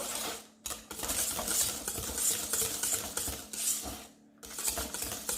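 A utensil stirs homemade monoi hair conditioner in a bowl after fragrance is added, making close scraping and clinking strokes in a steady rhythm with two brief pauses.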